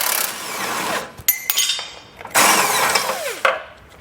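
An impact wrench with a swivel extension runs on a trailer hitch bolt for a front-mounted hidden hitch, in two loud, close bursts of whirring and rattling hammering separated by a brief metallic clinking pause.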